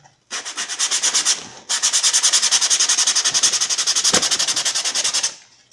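Rapid back-and-forth strokes of sandpaper rubbing a flat MDF board, loud and rhythmic, with a brief pause before the scraping resumes at a steady pace.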